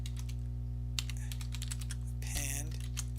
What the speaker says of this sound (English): having trouble here with my typing